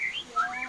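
A young captive myna bird gives a brief pair of clear, whistled chirps, close and moderately loud, with nothing else heard.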